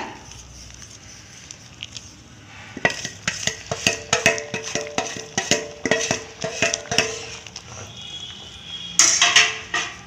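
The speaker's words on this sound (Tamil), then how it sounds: "இப்போ வந்து ரவையை போட்டுருங்க போட்டுட்டு உடனே நல்லா கிளறி விட்டுருங்க" A spoon stirs semolina into boiling water in a pot for kesari, giving a run of sharp scraping clacks and knocks against the pot's sides after a quiet start, with a brief louder rattle near the end.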